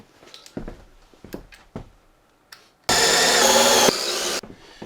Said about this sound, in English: So extra screws in the cross brace should help a lot.